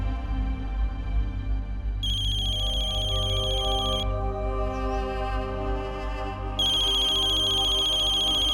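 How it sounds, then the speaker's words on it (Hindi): A loud electronic phone ringtone plays close by in repeated bursts with a short gap between them, over a low steady hum. "फोन उठाओ।"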